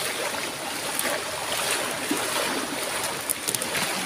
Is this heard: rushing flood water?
yes